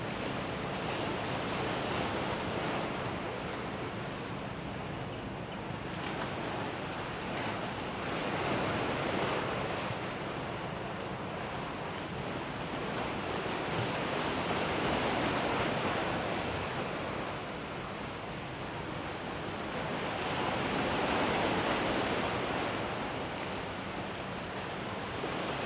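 Ocean waves rolling onto the shore during an outdoor yoga session, a broad washing surf that swells and recedes in slow cycles, mixed with wind noise on the microphone and no talking.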